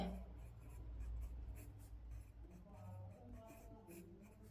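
A pen writes a Hindi sentence on a paper worksheet, making soft, close scratching strokes in short runs over quiet room tone.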